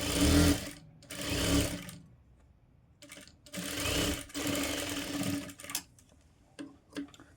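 A sewing machine stitches a cutwork blouse in several close, loud bursts of rapid mechanical whirring, separated by pauses with faint clicks and handling of the fabric.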